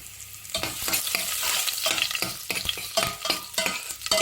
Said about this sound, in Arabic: راح شوية دهن خليت تنحمس